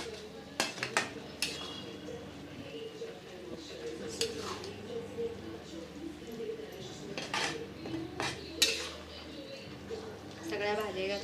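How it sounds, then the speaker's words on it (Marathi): Masala Maggi noodles with vegetables stirred in a pan, a series of close metallic clinks and scrapes of a spoon against the pan at an irregular pace, with a voice talking underneath. "मसाला सगळा हलवून घेते त्यामध्ये"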